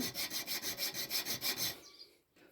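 A round chainsaw file rasps back and forth on a knife's metal in a quick, even rhythm, about a dozen strokes, close and clear, then stops.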